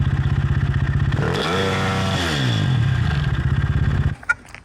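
A KTM 450 engine on a homemade buggy revs hard with a loud, rising motorcycle-like snarl, climbing in pitch twice before abruptly dropping off into clattering thuds.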